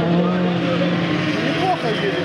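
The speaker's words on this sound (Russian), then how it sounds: "Когда более-менее трасса подсыхает, Форд начинает нормально ехать." Ford race car running on a drying circuit during a survival race, its engine droning steadily and loud throughout, with a crowd or commentary voice audible under the motor.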